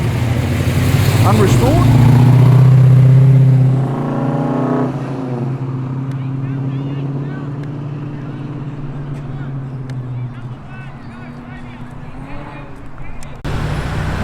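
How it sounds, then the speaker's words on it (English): A Porsche and an Audi S3 leave a car show in Tempe, Sydney, with a loud engine roaring close by as the cars pass, then a lower, steadier drone while people talk nearby. "Another Porsche and the S3 following."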